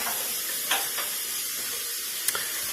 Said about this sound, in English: we're gonna sear the shit out of it